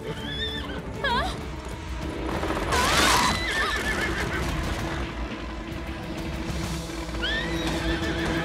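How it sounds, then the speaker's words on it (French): Cartoon unicorns whinnying loudly, with hoof clatter and stamping and a burst of rough impact noise midway, in an animated scene. "Cinder, essaie de l'enlever en tapant des sabots"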